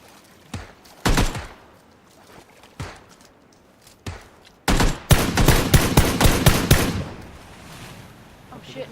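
Gunfire in a battle royale video game: a few sharp isolated shots, then a rapid loud burst of repeated shots in quick succession, fading to quiet at the end.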